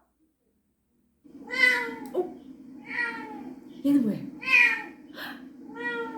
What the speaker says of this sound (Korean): 고양이 소리다 그죠